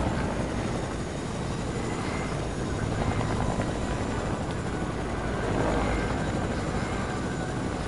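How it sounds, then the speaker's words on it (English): Helicopter in the video game Fortnite: a steady, dense rotor drone and engine roar holding at constant loudness throughout, close and continuous with no talking. "Here's the helicopter."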